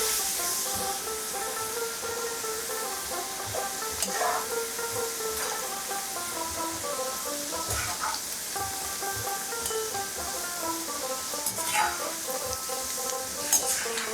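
Shredded potatoes for crispy jhuri aloo bhaja fry in oil on medium-high flame, a continuous close sizzle with intermittent scraping stirs and clatters of the spatula against the pan.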